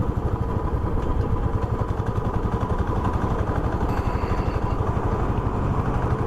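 A motorcycle engine idles at a highway toll plaza on a long-distance road trip, with a steady, loud, close throbbing chug that runs throughout.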